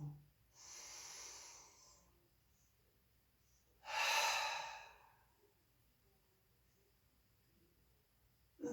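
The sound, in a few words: slow deep breathing during chair yoga exercise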